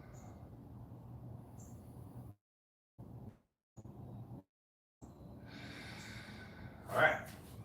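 Deep, slow breathing during a workout, with long audible inhales and exhales through the nose and mouth, faint and close, ending in a louder, forceful breath, around quiet pauses.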